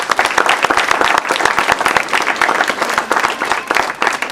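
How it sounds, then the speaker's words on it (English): An audience at a charity teddy bear presentation applauds, dense and loud, with steady clapping sustained throughout. "Give yourself a round of applause."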